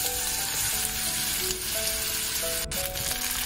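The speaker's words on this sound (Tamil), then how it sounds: "ஒரு கடாயில் எண்ணெய் ஊற்றிட்டு அதில் கடுகு, கருவேப்பிலை, ஒரு பச்சை மிளகாய் போட்டு தாளிச்சுட்டு அதில் இந்த கட் பண்ணி வச்சுருக்க மாங்காவையும் போட்டுடலாம்" Mustard seeds, curry leaves, green chilli and chopped raw mango crackle in hot oil in a kadai. The loud, close, continuous sizzle and spitting carries throughout, with no one speaking.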